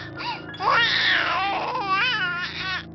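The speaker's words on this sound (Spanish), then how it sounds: "escuchó el llanto de un niño al lado de donde estaba parada" A child crying in a horror story, a continuous wailing sob with rising and falling pitch, loud and close, filling the whole moment without any talk.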